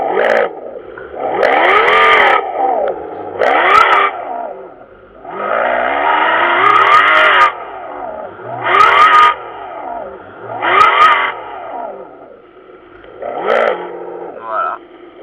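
Audi A3 8P engine revved repeatedly up to the rev limiter, around 6500 rpm, in a series of short sharp blips with brief pauses between them, close and loud.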